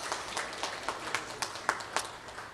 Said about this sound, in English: Give them a round of applause and thank them as well.